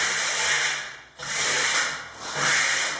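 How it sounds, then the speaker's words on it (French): A steel spatula glides over a second coat of waxed concrete in close, scraping strokes, three long rasping sweeps separated by short pauses, with no talk. "Le fait de continuer à caresser son béton, on a bien dit caresser, c'est-à-dire une spatule presque fermée"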